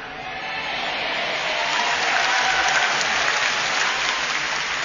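Applause from a large audience at an evangelistic revival meeting in a stadium hall, a steady dense wash of clapping that swells slightly and holds at moderate level for the whole stretch, with no clear voice on top.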